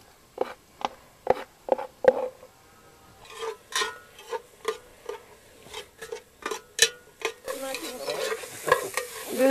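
Maize being stirred and roasted in an iron pot, with a steady run of close scraping strokes at a regular rhythm and a soft sizzle rising toward the end, no voices.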